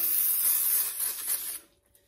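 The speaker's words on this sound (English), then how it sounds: "A little bit of carb cleaner. Get any gunk and shit out of the track." Carb cleaner sprayed from an aerosol can onto reused window track parts from a 1969 Charger door, a close, steady hiss lasting about a second and a half before cutting off.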